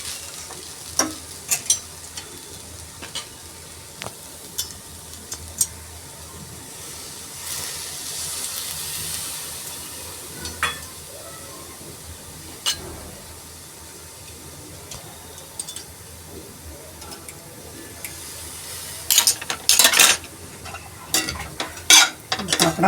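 A spoon stirs batata poha, flattened rice with potato, in a pan after the gas is switched off, soft scraping and light sizzling punctuated by sharp clinks of metal on the pan, sparse at first and clustering toward the end.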